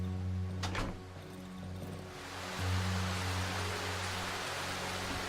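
Steady rain hisses as a broad, even wash of noise in the video game Darkwood, with a low hum and a few brief knocks early on.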